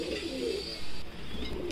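Fancy pigeons of the Sheikh Lakkha type at a pigeon farm in Rajshahi give soft, low cooing amid faint background ambience.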